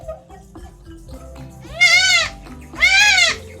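Three-day-old goat kids bleating, two loud, close cries in quick succession over a low background murmur.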